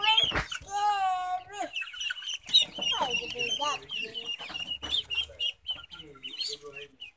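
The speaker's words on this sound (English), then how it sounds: "We got two baby ducklings." Baby ducklings on a farm peep in high, rapid chirps, repeating throughout under a child's and adult's voices talking nearby.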